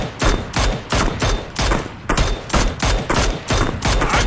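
Loud bursts of automatic gunfire in PUBG, about eight rhythmic volleys of close, rapid shots separated by short gaps, with no talk over them.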